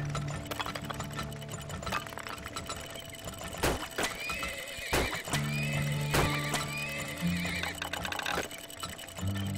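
Horses neigh and hooves clop in the Turmoil video game, several whinnies standing out over steady game music and a continuous rhythmic clatter, all fairly loud and close.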